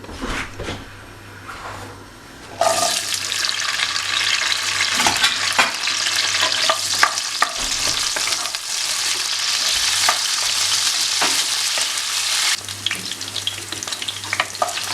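About 250 grams of cleaned pearl onions tipped into two tablespoons of hot olive oil in a pot for onion stew, a quiet start bursting into loud, steady close sizzling with stirring clatter throughout; no speech.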